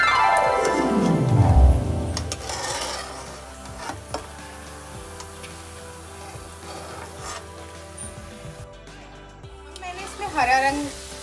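Green-coloured namkeen frying in hot oil for a tricolour Tiranga namkeen: a continuous bubbling sizzle with occasional clicks, mixed with tonal background sounds and a sweeping whoosh near the start.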